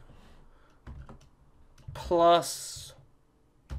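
Computer keyboard typing, a few brief light key clicks scattered under someone talking while coding in Java.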